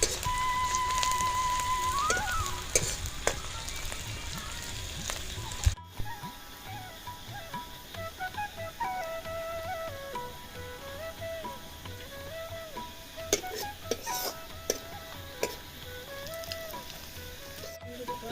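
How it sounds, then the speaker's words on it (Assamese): Turmeric hits hot oil in a pan for a local chicken curry, giving a bright hiss that is loudest at the start, then settles into a quieter continuous sizzle with scattered light pops. "এয়া গৰম তেলত হালধি অলপ দিছোঁ"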